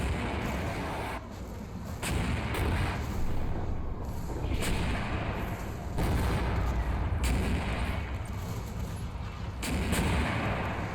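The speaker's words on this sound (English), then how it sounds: "Syrian mortars begin falling on the rooftops" Mortar barrage in the Combat Mission Shock Force 2 war game, with rounds falling on Syrian rooftops: a series of loud booming impacts every second or two over a constant rumbling backdrop, no talk.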